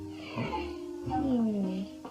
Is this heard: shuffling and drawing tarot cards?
no